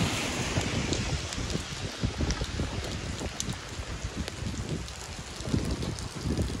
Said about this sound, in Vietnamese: Trời đang mưa.